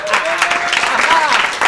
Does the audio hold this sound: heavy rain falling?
no